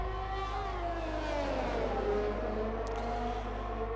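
A race car engine in a racing video game drones steadily and loudly, its pitch dipping and climbing as it brakes and accelerates through tight corners and a hairpin.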